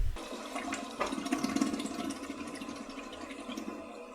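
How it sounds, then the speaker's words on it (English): A freshwater toilet flushes aboard a catamaran: a loud, close rush of water swirling down the bowl, steady for several seconds with a slight surge partway through and the pump's low hum beneath. "The freshwater flush was one of the upgrades that we got immediately after handover."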